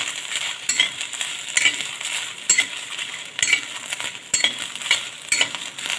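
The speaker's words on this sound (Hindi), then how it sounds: "तो हल्के से 2 मिनट के लिए हल्का हल्का सा भून लीजिए बस।" Dry red chilies and garlic roasting in a dry pan with no oil over medium heat, stirred in repeated scraping strokes with light rattling and a faint sizzle, close and steady without speech.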